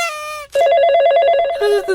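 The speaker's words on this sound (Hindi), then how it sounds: "दूर के रिश्तेदार का फोन है।" A telephone rings loudly and close in a hot tin-roofed room: a short first burst, a brief gap, then a steady repeating electronic trill that shifts lower near the end, with no talking over it.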